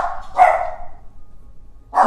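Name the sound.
dogs barking at doorbell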